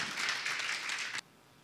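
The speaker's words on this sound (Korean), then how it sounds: "우리 큰 박수로 목사님 맞이하도록 하겠습니다" Warm applause from a church congregation welcoming a pastor to the stage, a dense wash of many hands clapping together that ends abruptly after about a second.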